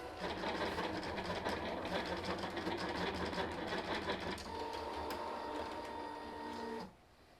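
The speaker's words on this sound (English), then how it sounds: "you can see that now my machine is starting to go" A cutting machine fitted with a WRMK Foil Quill runs with a steady whirring motor and rhythmic carriage movement, a faint tone appearing partway through before it stops near the end.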